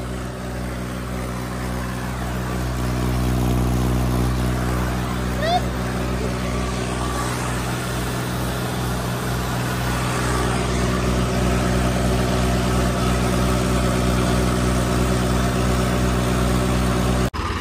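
A Massey tractor engine idles with a steady low throbbing drone that stays near and constant throughout, with people talking over it.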